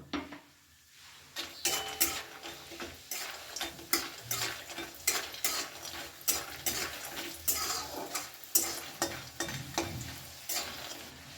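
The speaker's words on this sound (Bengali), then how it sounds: "কড়াইয়ের মধ্যে দিয়ে দিচ্ছি কিছুটা সাদা তেল প্রথমে আমি বড়িগুলো ভেজে তুলে নেব" Bori lentil dumplings fry in white oil in a wok with a steady sizzle, while a utensil stirs and scrapes against the metal in regular, repeated strokes up close. Nobody speaks.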